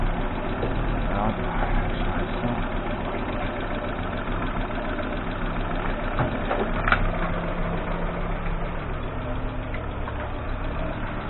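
A Volvo 850 engine idles steadily inside a garage, a continuous close mechanical rumble with light ticking, while someone talks over it.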